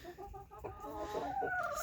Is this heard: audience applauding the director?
no